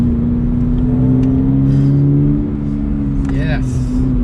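A Toyota GR86 fitted with RS-R Super Down springs is driven hard through corners, its engine a steady droning hum throughout, with people talking and exclaiming over it.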